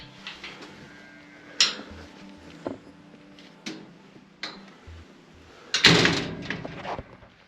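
A door at a cavern exit opens and closes, giving scattered clunks and taps and a louder latching bang near the end, in a quiet interior with no voices.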